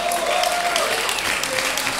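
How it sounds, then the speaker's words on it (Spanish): At a poetry slam, the audience gives a brief burst of steady applause, dense clapping throughout with a faint voice or tone briefly rising above it. "que es a mi señora Daniela, para la cual voy a pedir un aplauso."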